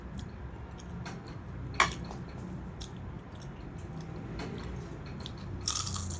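Crunchy fried food being bitten and chewed by hand, a few crisp crunches and soft chewing sounds close by over a low room hum.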